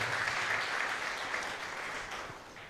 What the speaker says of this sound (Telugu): తండ్రి గారి గట్టిగా చప్పట్లు కొట్టి ధన్యవాదాలను తెలియజేద్దాం